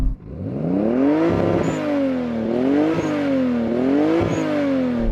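Close, loud Toyota 80 Supra engine revving in several rising and falling surges, the pitch swelling then easing back, with no voices over it.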